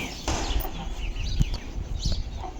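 Hens clucking in short, irregular bursts nearby, with scattered soft calls and light background rustle; no speech.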